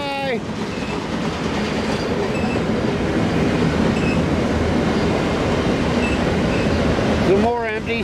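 An intermodal freight train rolls steadily beneath a bridge, its wheels and cars making a continuous loud rumble and clatter, with brief squealing tones at the start and near the end.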